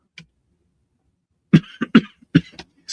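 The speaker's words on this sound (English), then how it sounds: "Hang on, I get a sip of water before I start coughing again." After a brief quiet pause, a person coughs several times in a short, choppy series of close, dry bursts.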